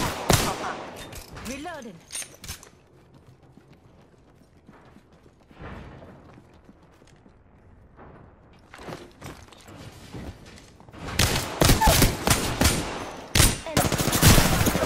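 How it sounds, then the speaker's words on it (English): Apex Legends video game gunfire, with a few isolated shots and mechanical clatter at first, then a dense loud volley of rapid automatic fire toward the end, under occasional game voice callouts. "I'm getting shot at."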